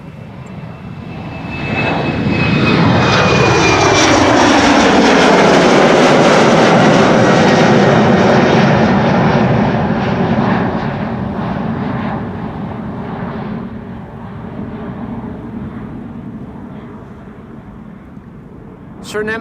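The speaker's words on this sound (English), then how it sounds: "Surinam Flight 993 on its way to Paramaribo. A340 600" A Surinam Airways Airbus A340-600, flight 993 to Paramaribo, departs Amsterdam Schiphol's Polderbaan runway on a windy day: a loud four-engine jet roar swells, peaks as the aircraft passes close with a falling pitch sweep, then fades into a long distant rumble.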